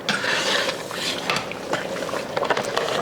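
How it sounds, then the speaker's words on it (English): A spoon scrapes and clinks against a pot of turkey noodle soup in repeated stirring strokes, with light metallic taps over a bubbling simmer nearby. "Just keep stirring it from the bottom"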